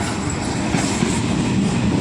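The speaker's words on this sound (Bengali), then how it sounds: "এই দেখো চলে আসছে ট্রেনটা।" A train pulling into a station platform gives a close, steady rumble of wheels and carriages with a faint rhythmic clatter and no talking.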